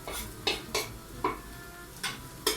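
A spoon knocks against a pot while vine leaf filling with spices, cumin and parsley is stirred, six sharp clinks at irregular intervals over a quiet background.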